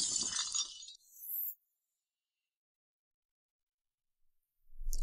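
A porcelain plate shatters in a dramatic domestic quarrel scene: one loud, sharp crash with scattering shards for about a second, a brief bright clink, then near silence until a low thump at the very end.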